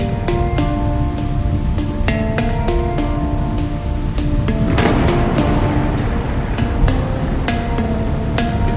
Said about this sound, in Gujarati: વરસાદ ચાલુ હતો